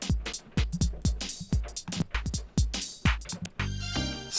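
An original 1990s underground house demo plays back from DAT tape, with punchy kick drums and percussion in a steady four-on-the-floor groove, ending in a sustained synth chord.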